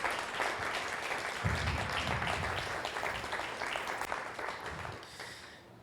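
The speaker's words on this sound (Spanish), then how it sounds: "Dele un aplauso al Señor si se lo quiere dar." A church congregation applauds during a Spanish-language sermon, a sustained wash of clapping heard somewhat distant and fairly quiet.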